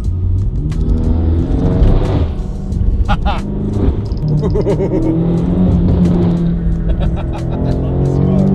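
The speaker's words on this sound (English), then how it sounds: "I am going to enjoy this drive and this exhaust." Engine and exhaust of a BMW M5 while driving, a deep rumbling drone that swells with throttle, with a voice talking over it in places.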